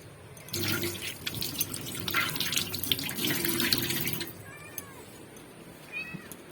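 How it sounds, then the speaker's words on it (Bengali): Water runs steadily from a kitchen tap as hands are washed, a constant rushing stream that stops abruptly, followed by a cat's soft meows close by. "হাতটা ধুয়ে আসি, হাতটা ধুই"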